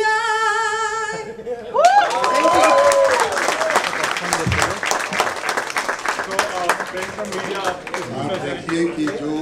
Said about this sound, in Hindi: जो तालियां बजी अभी वो तालियां बज रही हैं